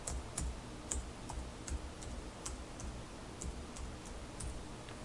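A URL is typed on a computer keyboard as a string of light, irregular key clicks, close and fairly quiet, over a low background hum with nobody speaking.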